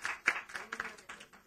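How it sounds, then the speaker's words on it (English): A brief scatter of claps from a quiz audience applauding the finalist teams at a startup quiz, fairly faint and thin, a handful of separate hand claps. "A round of applause for all the teams on the finals."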